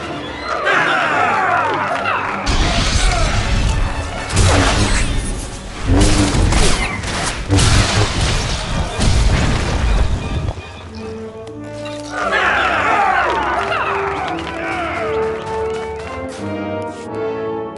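Droids battle in a Star Wars video game, with loud layered blaster fire, booms and clashing effects over a busy mix, then quieter musical tones before the fighting noise swells again.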